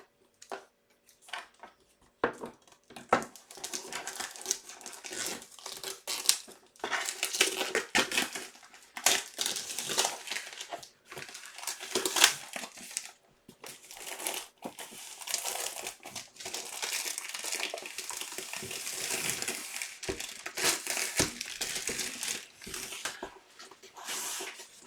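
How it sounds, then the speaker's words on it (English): Close, crackling rustle of an extra layer of plastic wrap being peeled and crumpled off a diamond painting art kit box, in irregular bursts of crinkling with short pauses and no talk. "it's covered in another extra layer of plastic. So I'll take that off too"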